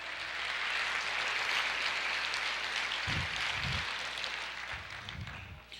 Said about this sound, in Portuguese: Quantos creem podem aplaudir o Senhor?